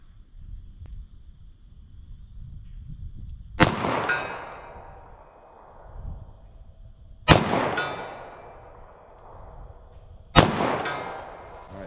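.38 Special revolver shots fired at a distant target 75 yards out crack three times at spaced intervals, each sharp report trailing off in a long echo over quiet outdoor background.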